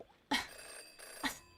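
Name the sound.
telephone ringing in the Jenny LeClue video game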